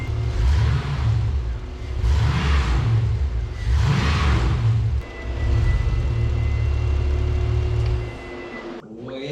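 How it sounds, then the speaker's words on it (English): A 1999 Chevrolet S-10 pickup with an LS engine swap, idling roughly, is revved repeatedly: several loud rises and falls in engine pitch close by, then the note sags and nearly dies toward the end. "Every time after I'm revving it, it's kind of half wanting to die, it sounds like."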